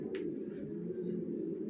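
Racer pigeons of a long-distance Johnson line murmur in a low, continuous coo close by, with a couple of faint higher chirps above it.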